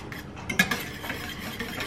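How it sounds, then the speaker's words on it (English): Whisk beaten by hand through cake batter in a bowl, a quick run of soft scraping and clinking strokes up close, with one sharper knock near the start. "So I'm just gonna use my whisk again, and I'm gonna whisk this together."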